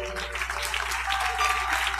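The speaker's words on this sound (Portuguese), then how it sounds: "Os que podem, vamos aplaudir ao Senhor." Church congregation applauding during a worship service, a fairly faint, diffuse clapping over a low steady hum, with a brief higher tone near the middle.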